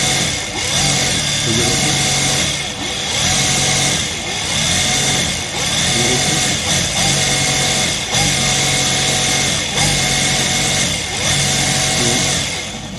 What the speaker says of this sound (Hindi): हम इसको ऊपर से ये ऑयल डालते हैं और ये देखिए मशीन को चलाते हैं